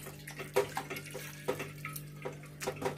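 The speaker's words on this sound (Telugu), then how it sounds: "ఇలా వడకట్టుకున్న చెనాని ఒకసారి నార్మల్ వాటర్ తో వాష్ చేసుకోవాలి" Water runs and splashes while strained chhena, a fresh cottage cheese, is rinsed in a cloth. There are soft, uneven pours and splatters over a low steady hum, and no one talks.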